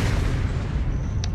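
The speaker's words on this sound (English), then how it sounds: "I'm gonna blast holes in that boat with this cannon." A cannon blasts holes in a boat during a Flex Seal FlexShot commercial, heard as a loud, continuous low boom and rumble that fills the whole moment, with a brief high crackle near the end.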